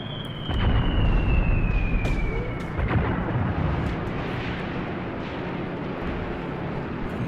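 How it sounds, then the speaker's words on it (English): Aerial bombs striking anti-tank gun positions in the wartime strategy game Graviteam Tactics: Mius Front, a loud deep rumbling blast that rolls on and slowly fades, with a falling whistle before it. "And here we go, dropping some bombs."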